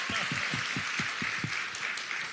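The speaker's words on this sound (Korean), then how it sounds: "박수 한번 쳐주세요" A crowd at Yang Jeong-cheol's book concert claps, with steady broadband applause and a row of rhythmic low thumps near the front, while a voice comes and goes.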